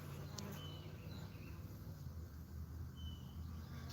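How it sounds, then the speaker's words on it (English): Bees humming inside a hive box in an outdoor bee yard, a low, steady droning buzz heard close but faint, with a few thin higher insect whines passing over it. "I mean, there's bees in the bottom."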